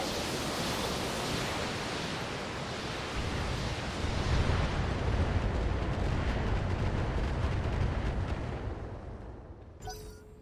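Artillery fire in the BattleTech video game, a long deep rumbling roar like a barrage that swells in the middle and then fades, ending with a short interface blip.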